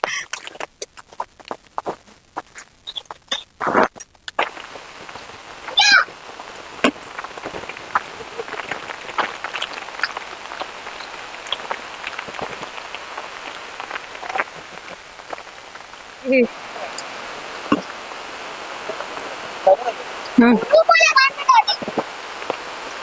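Rain patters steadily on surfaces throughout, with scattered close drips and taps and occasional soft movement sounds.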